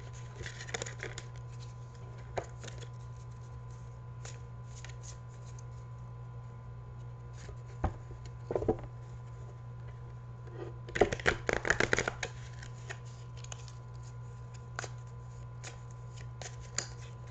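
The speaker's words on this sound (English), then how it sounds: "I'm a messy shuffler." Tarot and oracle cards are shuffled loosely and messily by hand, giving soft scattered flicks and riffles with a dense flurry of rapid shuffling near the end, close by over a steady low hum.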